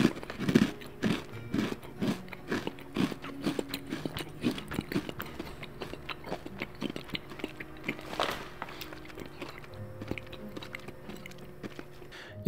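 Crunchy Thinsters brownie batter cookie bitten and chewed close to the mic, a series of sharp crisp crunches in an irregular rhythm, no talking.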